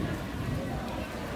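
Steady rain pattering densely on a surface, a constant wash of drops filling the brief moment.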